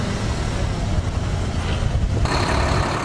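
Pramobil trucks loaded with vaccine doses on an airport tarmac, a steady low engine rumble running throughout with a faint beeping tone joining near the end, no talk.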